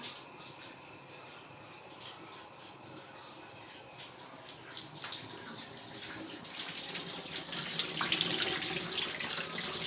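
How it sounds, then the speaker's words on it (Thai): Tap water runs from an opened faucet into a washing machine being checked for a drainage fault, a soft, continuous flow that grows louder and splashier toward the end, with no talking. "น้ำไหลเนี่ย"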